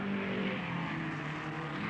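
Race cars roar around a curve during a race in the 1969 film The Love Bug, a dense, steady engine drone with shifting pitch as several cars pass at close range.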